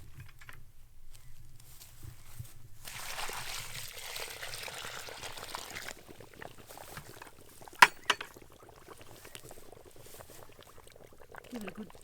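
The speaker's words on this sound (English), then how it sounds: "So we'll just put some water onto that." Water is poured steadily onto chicken manure for a few seconds, a soft splashing wash, then a couple of sharp knocks follow over quiet background murmur.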